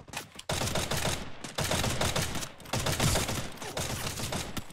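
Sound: gunfire in Free Fire video game

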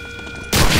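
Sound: gunshot in Medal of Honor: Allied Assault video game

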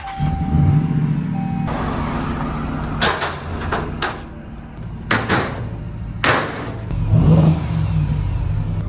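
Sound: BMW X3 engine starting and revving

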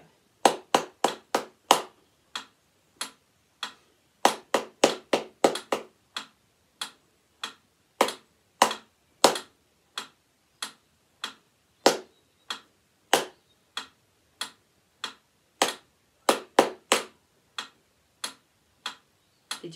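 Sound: hand clapping a rhythm

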